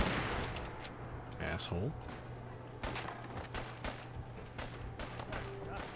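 Gunfire rings out in the Fallout 4 video game, with several sharp shots and bursts aimed at the player, heard fairly faint and mixed under a man's brief spoken exclamation.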